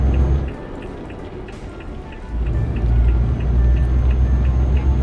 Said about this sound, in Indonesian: kalau cuaca hujan begini rasanya enak